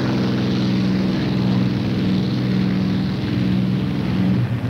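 Propeller-driven P-51 fighter planes taking off, a loud, steady droning engine roar with a pulsing low hum that holds throughout, no voices.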